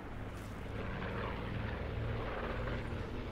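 An aircraft in the game Call of Duty Blackout drones with a thick, continuous rotor-like rumble, loud and unbroken, much like a helicopter.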